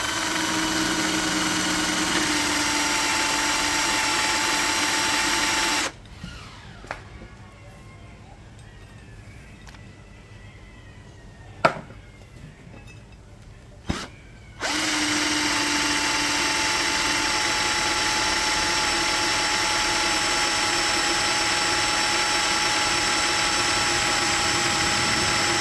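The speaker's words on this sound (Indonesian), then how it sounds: "Berikutnya kita akan mengebor besi dengan ketebalan 1 cm. Saya menggunakan mata bor ukuran diameter 5 mm." A cordless NRT Pro DC320 drill on speed setting 2 drives a 5 mm bit through 1 cm thick iron. It gives a steady, loud mechanical whine, drops away for about nine seconds, then runs again unbroken.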